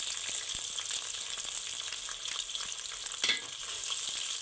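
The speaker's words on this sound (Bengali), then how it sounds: "একটু হালকা লাল করে ভেজে নিব" Sliced onions sizzle in hot oil in a pan with ginger and garlic paste for beef biryani, a steady close crackle with occasional stirring scrapes and one brief louder pop.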